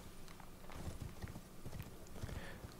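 Horse hooves clip-clop at an easy, regular pace in the Elden Ring game, heard fairly close over a quiet ambient backdrop, with a faint voice in the background.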